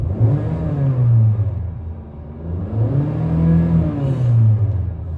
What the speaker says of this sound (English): So I'm gonna rev it.